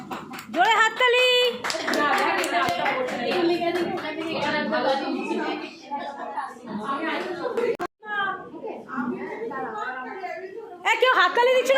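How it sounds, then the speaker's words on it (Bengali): A bunch of kids clap their hands in a studio, a burst of fast, scattered claps mixed with loud child chatter and laughter, then fading as talking continues. "জোরে হাততালি।"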